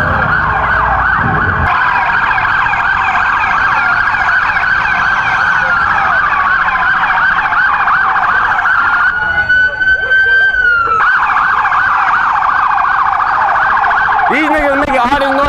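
A loud police siren wails continuously and close by, with sweeping up-and-down tones over street traffic noise and a brief change in pattern near the end.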